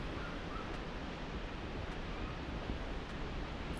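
The Salins waterfall in Auvergne gives a steady, dense rush of falling water, soft and constant with no other sounds over it.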